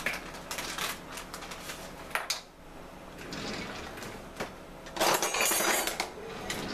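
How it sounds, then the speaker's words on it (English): A whisk clinking against a bowl while brown sugar is stirred into warm water, with quick light metallic taps and swishing in short irregular bursts, fairly faint and close. "you want to whisk that in until you dissolve it"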